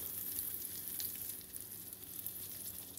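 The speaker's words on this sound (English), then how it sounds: "a couple things while these leeks are sizzling away here" Steady, continuous sizzling of leeks frying in a hot pan, a bright crackling hiss with no talking.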